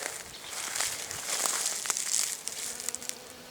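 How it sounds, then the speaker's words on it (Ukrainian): A faint, steady buzz of a honeybee working a small flowering amorpha shrub close by outdoors, with light rustling and soft ticks against a hissy background. "І навіть по моїм маленьким кущиком аморфи бджола теж працює."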